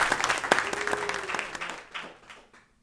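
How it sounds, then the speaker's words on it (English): A small audience at Double Vision claps for Mike Seeger, who ran the sound, a quiet burst of hands that thins out and fades to near silence within about three seconds. "Everybody clap it up for Mike."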